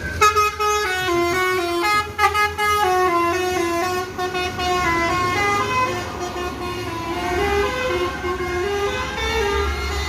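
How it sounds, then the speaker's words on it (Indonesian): A bus honking as it enters a terminal, with traffic around: a loud, musical multi-tone horn that plays a changing melody for the whole stretch, with a voice briefly heard near the start. "Ini bus Sumbar pertama masuk terminal Barisola bosku."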